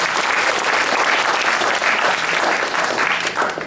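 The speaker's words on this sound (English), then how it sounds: "let's give Tim a big round of applause" A graduation party audience gives a loud, steady round of applause for a graduate, dense clapping filling the room without a break.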